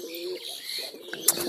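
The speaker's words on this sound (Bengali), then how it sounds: "ঘুঘুকে খাওয়াচ্ছি এখন" A sick dove being hand-fed makes a few soft, faint coos and small chirps close by, with light handling rustle and a brief sharp click near the end.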